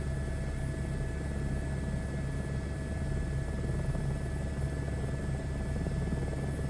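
A helicopter flies the Lahaul and Spiti loop, heard from inside the cabin as a faint, steady, even drone with constant tonal hum and no voices.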